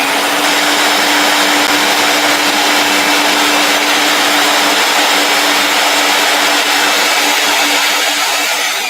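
A heat gun blows with a loud, constant, close airy roar and a steady motor whine, running alone without a break.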